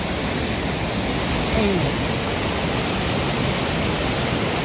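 Huai Chang waterfall in Pai, Thailand, pours as a dense, constant broadband rush close by, unchanging throughout, with a brief faint voice over it.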